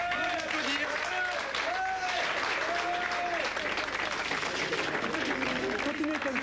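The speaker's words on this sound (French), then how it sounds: "Bravo Yann. Ouais, applaudir." A crowd applauds a competitor who just placed third, steady clapping throughout while a voice speaks over it in bursts of talk.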